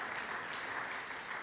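A church congregation claps steadily to welcome newly registered members at a Sunday service, a dense, even wash of applause filling the room.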